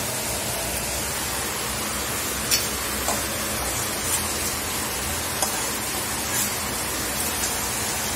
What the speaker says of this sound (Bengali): আর বাইরে দেখো কত জোরে বৃষ্টি এসেছে, দেখো প্রচুর বৃষ্টি এসে গেছে।